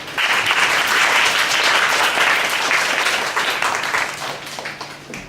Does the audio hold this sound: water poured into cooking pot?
no